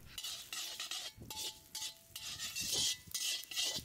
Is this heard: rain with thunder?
no